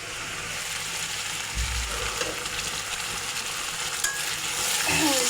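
Spice masala for a pomfret fish curry fries and sizzles steadily in a pan, with stirring scrapes and a brief clatter, close and fairly quiet with no talking.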